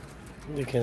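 A red-eyed Teddy pigeon gives a brief, close coo that swells at the end, over a low background murmur.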